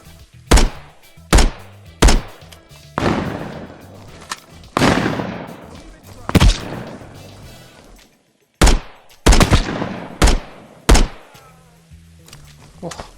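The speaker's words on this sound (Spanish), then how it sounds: "me van a disparar desde ahí abajo" Gunfire in the VR shooter Contractors Showdown Exfilzone, a string of loud, sharp single shots and short bursts with echoing decays, spaced irregularly over several seconds.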